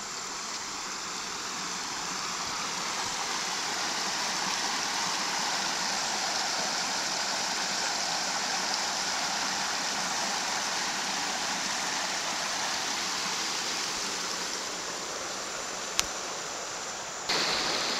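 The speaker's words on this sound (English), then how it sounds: "And here's the creek." A creek runs in a steady, broad rush of flowing water heard close by, continuous throughout with a brief knock near the end and no talking.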